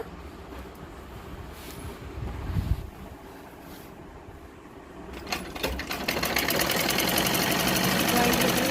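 A sewing machine runs steadily while stitching a blouse lining, its continuous mechanical whir growing louder and denser toward the end, with a muffled clunk midway.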